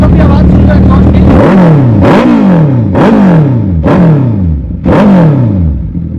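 A Suzuki Hayabusa motorcycle fitted with an Austin Racing exhaust gives five loud, sharp throttle blips about a second apart, each snapping up and falling back to a deep idle, recorded close by.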